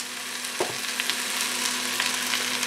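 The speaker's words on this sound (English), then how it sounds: "while these spinach greens are reducing down" Spinach greens fry in a pan with a steady crackling sizzle, a faint constant hum underneath and a clink or stir just past half a second, close and alone without talk.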